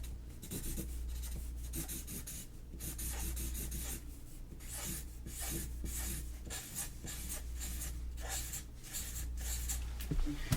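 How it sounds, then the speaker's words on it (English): Chalk or marker writing on a board in a classroom roleplay, a steady close run of scratchy strokes and rubbing that lasts the whole stretch with only short pauses between words. "I'll write the correct answer on the board here"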